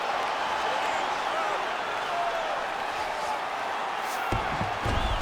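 An arena crowd at an MMA lightweight bout roars continuously, a dense sustained din with a few thumps near the end.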